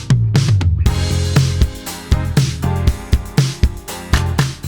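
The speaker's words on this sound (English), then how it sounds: "how you can get a modern disco pop drum sound without using any sample packs" A punchy disco-pop drum groove with four-on-the-floor kicks, crisp hats and claps, played loud and alone with some synth tones.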